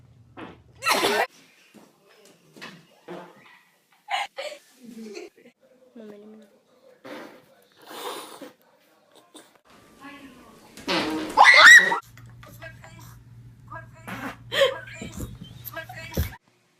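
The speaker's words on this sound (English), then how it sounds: "I farted. Oopsie." Girls fart in a series of short, separate bursts of varied length spread across the stretch, with talking and laughter between them.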